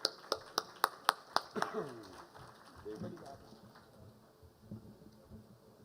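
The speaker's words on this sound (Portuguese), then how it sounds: "Uma salva de palmas para ele, por favor." A burst of applause at a maritime law congress panel opens with a few sharp, evenly spaced claps, then thins into scattered softer clapping that fades.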